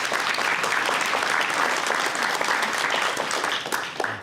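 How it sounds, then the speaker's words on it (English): Warm applause from a graduation audience honoring guide dog clients, a steady, bright wash of many clapping hands at close range, easing slightly near the end. "A round of applause to our clients."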